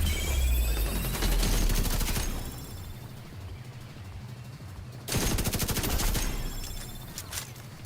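Video game gunfire in long rapid automatic bursts, loud and close, with a second burst after a short lull.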